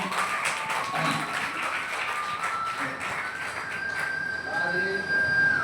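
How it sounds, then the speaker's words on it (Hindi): An audience at a Shree Ram Katha devotional gathering claps loudly, a dense rapid patter of applause that stays steady throughout, with a voice heard underneath. "महाराज जी को जोरदार ताली बजाएं"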